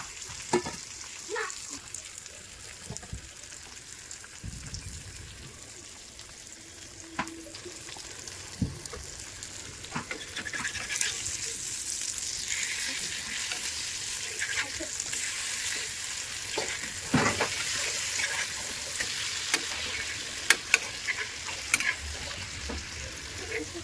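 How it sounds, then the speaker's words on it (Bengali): Fish fries in a pan over a lowered gas flame, giving a continuous close sizzle with scattered clicks and scrapes of stirring, and no voices. "গ্যাসটা কমিয়ে রাখছি, মাছ ভাজাটা হইতে থাক।"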